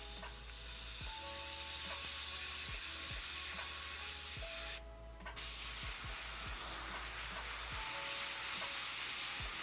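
An airbrush sprays cleaner through in a steady hiss, with a short sharp burst partway through, quiet and close, with no voices.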